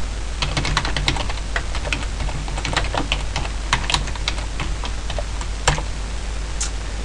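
Fast, continuous typing on a computer keyboard while writing JavaScript code for an ARM microcontroller, with close, crisp key clicks in an uneven rapid rhythm and occasional louder taps.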